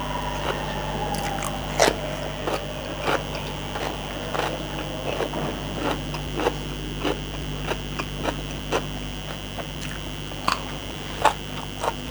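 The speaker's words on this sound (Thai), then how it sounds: "มาจ้ามากินข้าวด้วยกัน" A meal of fried vegetables and fried fish is eaten up close, with soft chewing and occasional crisp bites and clicks over a constant background hum, no one talking.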